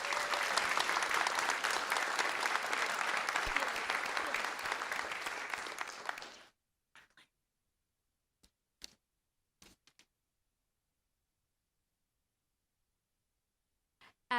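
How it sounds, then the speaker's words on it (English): Students at a school board meeting receive a loud, sustained round of applause that fills the room for about six seconds, then stops abruptly into near silence broken by a few small taps. "Let's give our students a round of applause."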